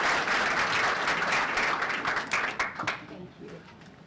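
Audience at a Boston luncheon for a homeless healthcare nonprofit applauding to welcome a speaker, steady dense clapping that thins and fades toward the end.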